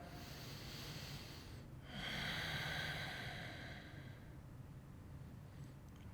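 Deep, slow breathing during a yoga session: one soft, airy breath that swells for about a second and then fades back into a quiet room hush, close and faint.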